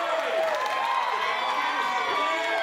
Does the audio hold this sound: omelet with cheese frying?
no